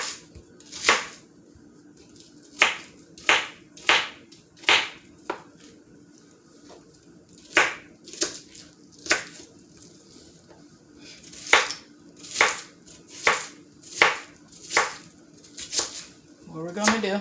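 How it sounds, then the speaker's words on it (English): Chitterlings and hog maws are chopped into small pieces, with close, sharp chops landing in uneven bursts and short pauses between runs of strikes. "I like to chop mine like this."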